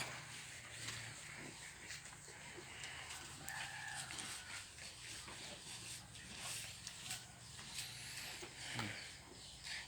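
Chickens and a rooster on a farm that also keeps pigs, with crowing and clucking at moderate distance over constant outdoor ambience and faint talk in the background.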